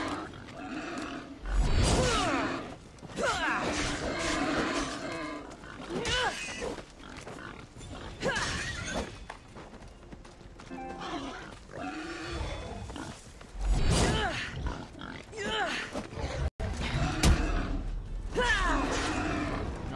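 Wild boar piglets in the video game Assassin's Creed Odyssey grunt and squeal amid loud game combat noise and roaring, with someone talking excitedly over the chaotic scene.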